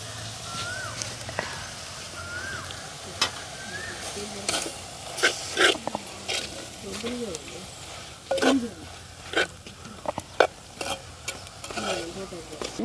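Mushroom curry frying in a deep pot, stirred with a spoon that scrapes and knocks against the pot in irregular strokes over a soft continuous sizzle, with faint voices in the background.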